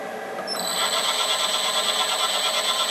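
Homemade aluminium foil slitting machine for tweeters running at very low RPM, giving a steady, close mechanical whir with a sustained high whine that enters about half a second in and holds, slightly uneven throughout.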